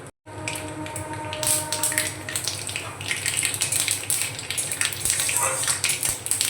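Cumin and black mustard seeds fry in hot mustard oil in a pan, giving a steady crackling sizzle with scattered pops that carries on throughout, and faint background sounds join in partway through.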